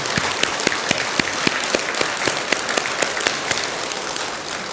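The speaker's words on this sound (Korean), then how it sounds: "큰 박수 한번 보내주시기 바랍니다" A temple congregation gives a big round of applause, dense steady clapping with sharp individual claps standing out, loud and continuous with no talk.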